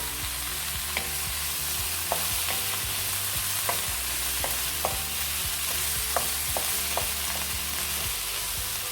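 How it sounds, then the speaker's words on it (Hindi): Vegetables and capsicum sautéing in a pan, with a steady close sizzle and repeated sharp clinks of stirring scattered through, no voices. "और साथ ही इसके मैं ये शिमला मिर्च भी डाल दूँगी ताकि सब्जियां भी साथ में सॉफ्ट हो जाए।"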